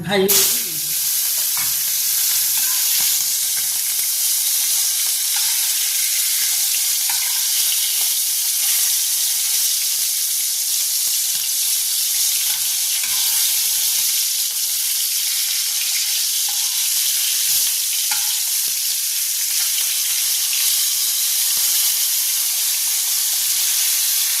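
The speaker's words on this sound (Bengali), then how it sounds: "এবার আমি ইলিশ মাছের মাথাতে নুন হলুদ মাখিয়ে রেখেছি। এবারে ভাজি" Hilsa fish head coated in salt and turmeric frying in hot oil, giving a loud, steady, close-up sizzle and hiss that runs unbroken from start to end with no voices.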